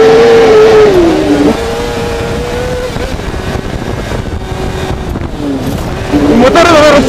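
A loud kart cross engine, a Planet Kart Cross Kamikaz 2, revving hard and shifting pitch as it accelerates close by on a track, with a voice talking over it.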